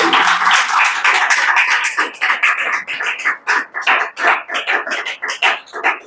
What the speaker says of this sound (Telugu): చప్పట్లు కొట్టి దేవుని నామానికి